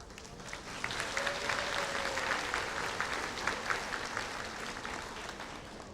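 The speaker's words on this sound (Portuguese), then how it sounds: "Vocês merecem essa salva de palmas." An audience of retirees at a meeting gives a round of applause, a quiet, distant-sounding patter of many hands clapping steadily for several seconds.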